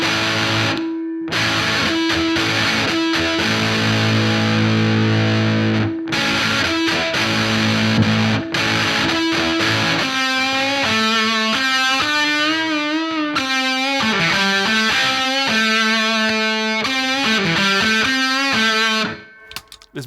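An electric guitar runs through a Boss DS-1 distortion pedal, loud and continuous, with sustained chords at first and then a run of picked single notes and bends.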